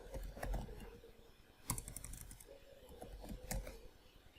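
Soft, sparse keystrokes on a computer keyboard as a search is typed into a web browser, faint and close, with a couple of sharper key taps standing out against a quiet background.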